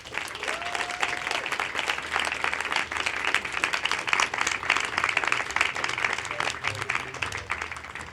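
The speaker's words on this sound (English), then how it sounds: "So a large round of applause for Jeetendr Sehdev." A room full of people gives a large round of applause at an Apple Store talk in SoHo, sustained, thick clapping that swells and holds throughout, with a little speech mixed in.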